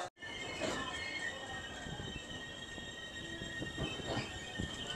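Tanjavur-Kollam Express standing at a station platform in South India, with a steady rumble of rail cars and intermittent squeals of wheels and brakes, loud and continuous over station ambience, no talk.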